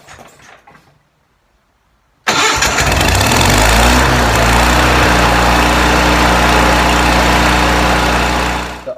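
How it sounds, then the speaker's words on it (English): A Lincoln Electric Ranger 9 generator welder engine, choked about halfway, cranks and catches after a couple of seconds of near silence, then runs loud and steady with a strong, even drone to the end. "Choked it out maybe halfway, and then went ahead and gave it a start."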